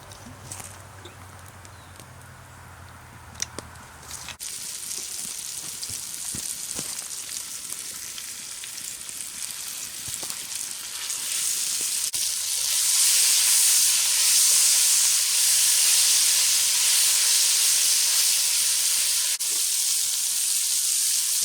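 Flour-dusted wild boar meat frying in a Dutch oven, a steady loud sizzle and hiss that starts after a few seconds and swells louder partway through, with no talking.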